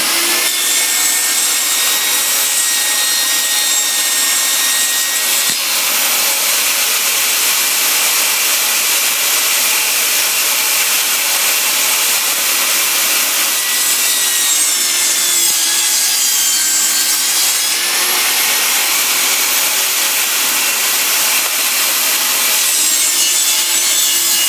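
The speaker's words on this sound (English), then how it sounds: "I'm going to use this piece of plywood and cut 2 5 3/4 inch pieces" Plywood is sawn into 5 3/4 inch wide pieces for a homemade checker board, giving a loud, continuous rasping cut at close range with no pauses or speech.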